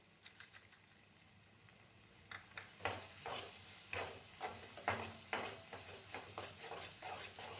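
Dudhi halwa, a bottle gourd sweet, is stirred in a pan with a spoon, giving repeated light scraping and clinking strokes in a steady rhythm, close and fairly quiet, with no talking.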